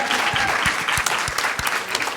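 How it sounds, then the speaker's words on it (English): A crowd of listeners at a talk breaks into a steady, dense round of applause, the clapping sustained and fairly loud throughout. "Let's give a round of applause"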